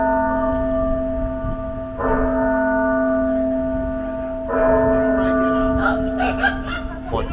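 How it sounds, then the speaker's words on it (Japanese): Church bells ring in a tower of Barcelona's Sagrada Família with sustained, resonant tones, struck again twice and humming on throughout, with voices chatting briefly near the end. "こちらの塔で鐘が鳴ってますね。"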